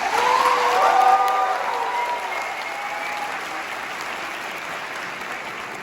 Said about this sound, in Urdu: ان کے لیے تالیاں بجائیے